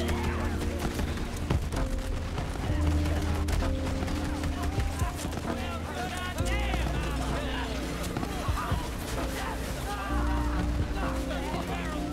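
Rapid gunfire in Borderlands while a Jakobs weapon empties its clip, dense overlapping shots and impacts under a game soundtrack, with someone talking throughout.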